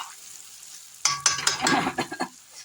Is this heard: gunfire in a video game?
no